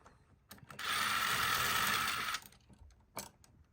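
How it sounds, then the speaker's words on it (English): A powered screwdriver backs screws out of a wall outlet with one sustained whirring, ratcheting burst of about a second and a half, framed by a few short clicks and knocks. "Let's take these screws out right here for right now."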